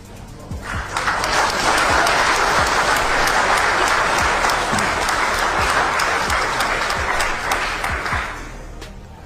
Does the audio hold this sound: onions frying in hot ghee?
no